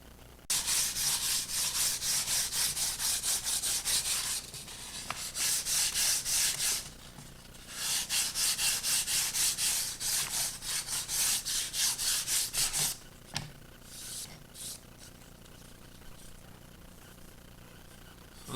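Sandpaper rubbing back and forth on the edge of a P-40C Tomahawk scale model wing, close rhythmic rasping strokes in long bursts, fading into lighter scrapes and handling noise near the end.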